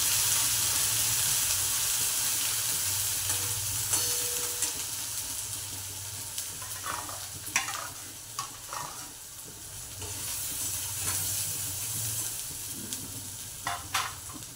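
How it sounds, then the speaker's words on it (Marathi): Mustard seeds in a tempering of hot oil sizzle steadily up close while a pan is stirred, with occasional sharp crackles and scraping clinks as the frying settles; no talking. "जास्त खमंग फोडणी बसली मोहरीची।"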